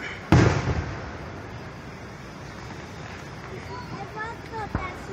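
A single loud firework bang bursts close by near the start, followed by softer crackles and a later pop, with people talking and exclaiming throughout.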